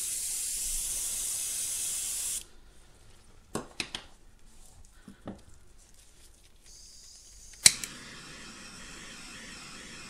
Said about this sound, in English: This time I'm going to blow it just a little bit up and down.